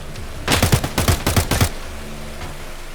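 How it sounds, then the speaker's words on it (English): Full-auto gunfire in the video game Escape from Tarkov: a few short, sharp rapid bursts in quick succession over about a second, loud and close, followed by a quiet ambient hum. "He quickly switched to full auto."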